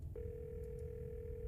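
A steady telephone dial tone in the horror game Scarlet Hollow, starting abruptly after a brief click and holding continuously at even volume, with faint low background hum underneath.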